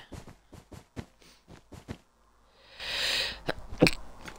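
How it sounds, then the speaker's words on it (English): A single loud sneeze bursts out after a run of short rhythmic tapping sounds, followed by a couple of sharp sniffs. "just had a sneeze"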